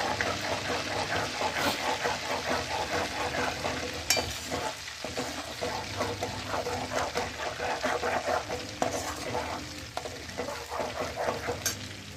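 Butter simmering in a pot as it turns into homemade ghee, giving a steady frying sizzle with bubbling and occasional stirring, close and continuous with no talk.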